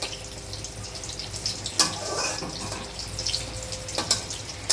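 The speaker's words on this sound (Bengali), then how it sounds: "এখন বেগুন ভাজছে" Eggplant (brinjal) slices frying in a pan in a home kitchen, a steady wet sizzle broken by a few sharp clicks and utensil taps.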